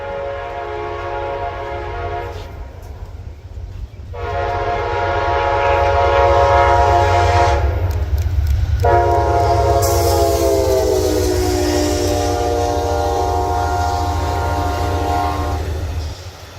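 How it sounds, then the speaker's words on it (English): Amtrak train P063 led by locomotive 46 sounds its horn in long, loud, sustained blasts with short gaps, over a steady low rumble of the passing train and rail noise. "The next train on this list was Amtrak PO63, with Amtrak 46 leading"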